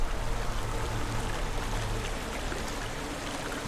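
A waterfall in the video game Hellblade: Senua's Sacrifice pours in a steady, dense hiss of rushing water, close and unbroken from start to finish.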